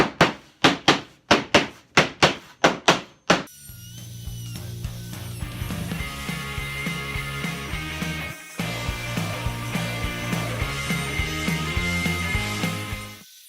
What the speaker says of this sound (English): And I'm going to pound it down.